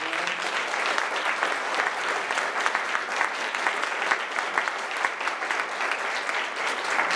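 Audience applause at an evening workshop on vaping, sustained dense clapping from a crowd at steady strength, heard alone.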